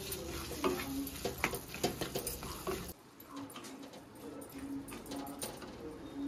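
Mashed chickpeas stirred and sautéed in a thick masala gravy for chana masala, giving close, soft sizzling with scraping spoon strokes and light clinks, louder at first and then settling into a steadier low fry.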